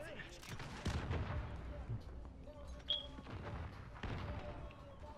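Faint video-game gunfire thumps and booms a few times in a quiet mix, with players talking over the shots.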